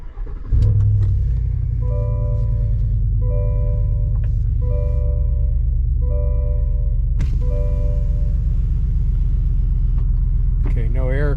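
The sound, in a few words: Chevrolet Silverado ZR2 engine starting, muffler delete, cold air intake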